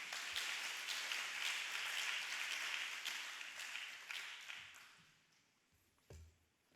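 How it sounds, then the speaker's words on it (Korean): Church congregation applauding during a Friday late-night prayer service, dense steady clapping that fills the room, then thins and fades out, ending with a single louder knock near the end. "박수해 주세요."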